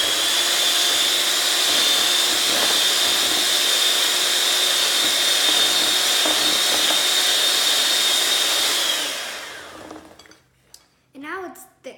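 A steady, loud electric whir of gourmet pancake batter being mixed runs unbroken for about nine seconds, then cuts off, leaving a few faint clinks and brief voices.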